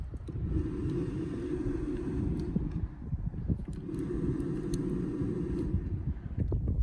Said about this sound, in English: Now listen to the blower fan.